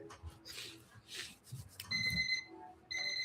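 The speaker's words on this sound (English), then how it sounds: "that's the timer for that one" A timer alarm goes off, sounding as steady electronic beeping tones that start partway through, pause briefly, and resume after quiet, soft speech.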